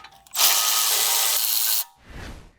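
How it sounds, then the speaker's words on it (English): Hand tool working on the front suspension bolts of a 2022-present VW Mk8 Golf R during a wheel bearing job: a loud, steady buzzing run of over a second, then a short softer rattling burst, with no talk. "I'm gonna crack them all loose and go back with a ratchet"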